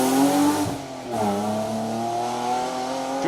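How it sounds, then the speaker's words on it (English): A BMW rally car on a stage of the Manx Rally roars close by, its engine pitch rising and falling through gear changes as it passes. "George Collister, Ian Postlethwaite in that familiar sounding and looking BMW"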